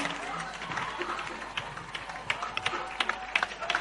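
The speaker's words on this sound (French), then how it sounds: "Clap offering to Jesus." A church congregation claps in praise at a service, scattered hand claps mixing with crowd murmur and voices speaking throughout, the claps growing sharper toward the end.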